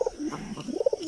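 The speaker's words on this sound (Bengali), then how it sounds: "এখানে যে দুটো কবুতর দেখতে পাচ্ছেন, এইটা এবং এই কবুতরটা" A pigeon gives a brief, close, low coo that rises and falls over about a second, with no one talking.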